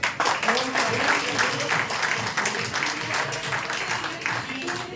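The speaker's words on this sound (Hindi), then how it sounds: "एक बार जबरदस्त तालियां बजाएंगे" Audience at a business seminar claps in a steady round of applause, moderately loud with a murmur of voices mixed underneath.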